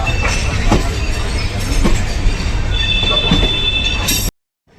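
A Sealdah–Barasat local train rolls slowly through a curve, its wheels squealing in high, sustained tones above a steady low rumble and clatter, loud and close from on board, then cutting off abruptly.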